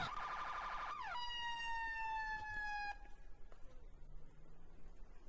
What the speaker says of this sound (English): you can sit in the officer seat and actually control the sirens